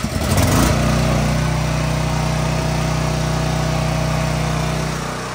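A Champion dual fuel generator running on propane starts with a brief rough burst, then settles into a steady, loud engine drone with a constant low hum that holds for several seconds, close by and outdoors, with no talking.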